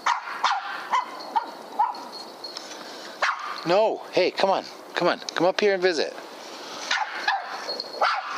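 A dog barks repeatedly in quick bursts with a few yips, close by, while a person speaks to it between barks.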